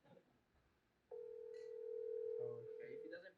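A phone rings out on a call to a friend as a steady electronic tone begins partway in and holds. Voices murmur faintly underneath.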